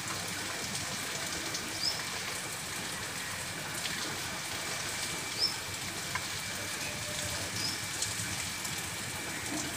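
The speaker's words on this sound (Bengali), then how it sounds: "খুব জোরে পড়ছে না, মোটামুটি বৃষ্টি পড়ছে" Moderate monsoon rain falls steadily under a cloud-filled sky, a soft continuous patter of drops with a few faint brief chirps above it and no talk.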